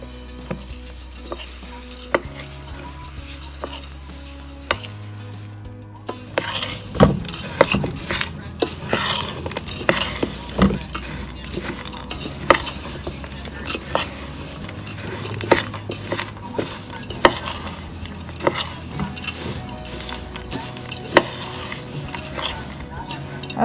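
A spoon stirring a homemade granola mix with coconut oil and honey in a pot, a long run of close scraping, clinking and rustling strokes that grows busier partway through.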